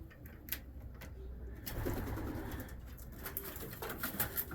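Pigeons cooing inside a pigeon loft, soft low coos repeating among rustling and a few sharp knocks and flutters, close and steady, with no talking.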